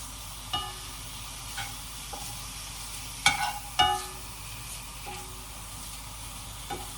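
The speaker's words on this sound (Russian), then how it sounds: "Мясо на обжариваю" Meat frying in a pan: a quiet, steady sizzle with occasional soft clicks and scrapes from stirring, heard alone without talk.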